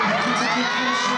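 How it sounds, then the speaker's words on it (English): A concert audience screams and cheers continuously at high pitch during a music performance, a dense, steady wall of crowd noise with no clear breaks. "the sound of the audience screaming"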